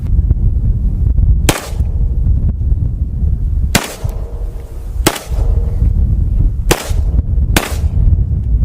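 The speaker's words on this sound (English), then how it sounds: "We're shooting some hollow points as well, as you guys can see." A pistol fires hollow point rounds into dirt outdoors: five loud, sharp single shots spaced a second or two apart, each with a brief echo, over a steady background rumble.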